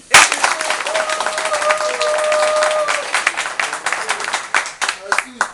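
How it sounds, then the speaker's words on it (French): A crowd in a prison breaks into loud clapping that swells, then thins into scattered claps, with voices carrying over the start. "On applaudit."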